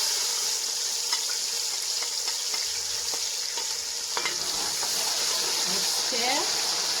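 Chopped onion goes into hot groundnut oil in a pan over high heat for peanut soup, giving a steady, fairly loud sizzle with stirring scrapes and a few clinks throughout.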